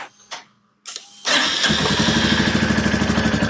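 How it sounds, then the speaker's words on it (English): Royal Enfield Meteor 350 motorcycle with a cat-delete exhaust, in neutral: after a few short clicks, the engine cranks and catches, settling into a loud, steady, throbbing idle that continues close by. "now what I'm going to do is I'm going to run the bike"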